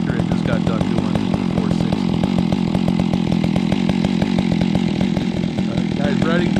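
A Stihl 460 chainsaw cuts into hickory wood, its engine a loud, steady, close-up roar with a rapid, even rhythm that holds through the whole cut.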